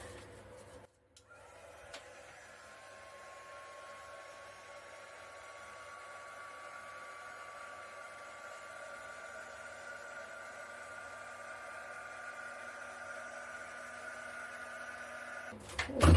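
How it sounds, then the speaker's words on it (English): A heat gun blows over acrylic pour paint, a faint steady whooshing hiss with a thin whine that holds for many seconds between clicks at the start and end. "now I'm going to hit that with a heat gun, and then we can start tilting it"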